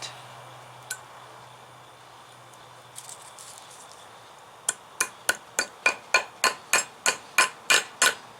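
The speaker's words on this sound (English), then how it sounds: "Just going to tap it in. Don't hit it too hard." A hammer taps a new door bushing into a 1993–2002 Firebird/Camaro door hinge. After a few scattered knocks come about a dozen light, evenly spaced metallic taps that grow slightly louder, close up and alone.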